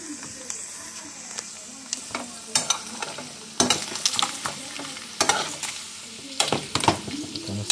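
Chicken sizzles in a hot pan while a utensil stirs and scrapes it in quick, irregular strokes over a constant frying hiss, with a little talk in the background.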